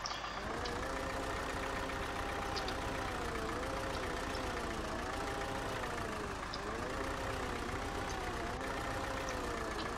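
A tractor engine in the off-road driving game Spin Tires runs steadily, a continuous droning rumble with slight wavering pitch throughout.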